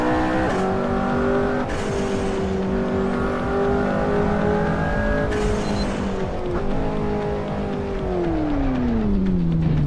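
Loud car engine in the racing game Assetto Corsa revving steadily with harmonic drone, pitch rising and holding then dropping at the end, with brief tire noise, continuous throughout.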